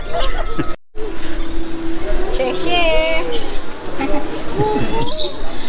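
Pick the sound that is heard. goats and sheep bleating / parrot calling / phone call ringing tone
parrot calling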